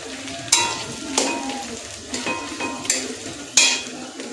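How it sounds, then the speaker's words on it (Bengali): Onions fry in a pan for a mutton curry, a continuous sizzle broken by several scraping stirs of a utensil against the pan. "পেঁয়াজটা একদম ভাজা ভাজা হয়ে যাবে, লাল লাল হয়ে যাবে।"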